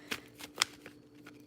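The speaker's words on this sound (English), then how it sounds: "I'm going to shuffle 3 more times." A deck of playing cards shuffled by hand during a tarot-style card reading, with short crisp riffling bursts and snaps at irregular intervals, close and fairly quiet, with no talking.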